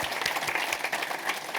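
A brief burst of dense, even audience applause for the mayor at a 2023 State of the City address, a crowd clapping together at close range with no voices on top.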